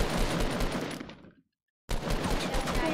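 Rapid gunfire bursts in Fortnite Battle Royale on Xbox One, loud and dense, cutting off abruptly into half a second of silence before the shooting resumes just as heavy.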